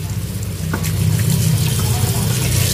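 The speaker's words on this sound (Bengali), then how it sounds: "তো মূলোগুলো ধোয়া, তবু আমি আর একবার ধুয়ে নিয়ে আসবো।" Radishes are washed under running tap water. A steady close stream splashes and gushes, starting softly and then running strongly and continuously, with no talking.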